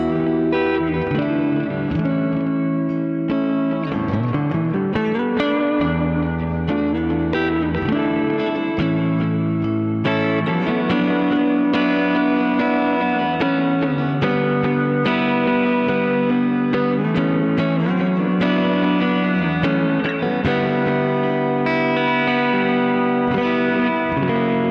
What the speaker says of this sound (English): It's not big enough to be like a feature reverb, but it really does give a lot of ambience with the delay as well